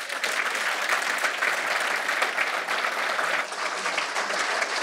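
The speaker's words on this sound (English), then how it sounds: "Can I have one big last applause for him?" An audience at a bird-watching event applauds after a talk on vagrancy in birds. The clapping is loud, dense and sustained for about five seconds with no speech.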